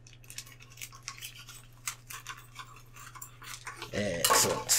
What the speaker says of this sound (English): let's cut this bag open and just see what goodies we've got inside here